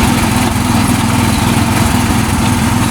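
Small oil-lubricated engine powering a sugarcane juice press at a street stall, a loud continuous chugging drone up close that holds steady throughout with no voices over it.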